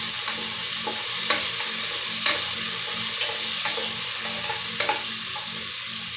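Tomatoes with shallots frying in a pan, a loud constant sizzle broken by repeated sharp spatula taps and stirring scrapes, close by.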